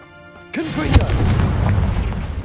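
A Confringo spell blast in Hogwarts Legacy: after a quiet musical tone, a brief voice-like cry gives way to a loud, sudden explosive burst with a sharp crack, followed by a sustained rumbling roar.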